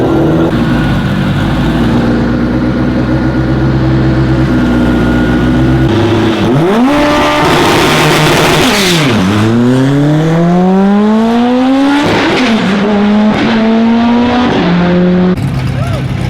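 A race car engine revs hard and climbs through its gears, the pitch sweeping upward again and again, loud and close.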